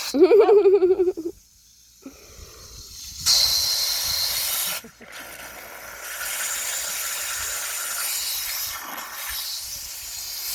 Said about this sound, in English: it's really fun to spin it in a lettuce spinner